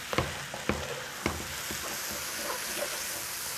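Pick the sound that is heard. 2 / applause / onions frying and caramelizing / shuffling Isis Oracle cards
onions frying and caramelizing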